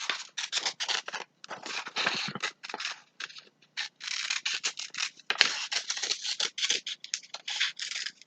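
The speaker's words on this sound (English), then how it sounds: "Cut out those two circles at the bottom." Scissors snip steadily through paper, cutting out circles for a kids' craft, with rapid bursts of close, crisp cuts broken by short pauses, and no talking.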